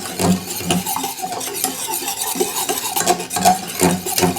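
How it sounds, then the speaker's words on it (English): Pumpkin gummy mixture being whisked in a bowl, a busy clatter of repeated scraping strokes and light metallic taps, fairly close and steady with no talking. "We'll whisk it all together."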